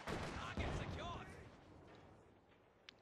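Gunfire and explosions in the World War II strategy game Company of Heroes 2, a loud blast then rattling shots that fade into distant battle noise, with a sharp crack near the end.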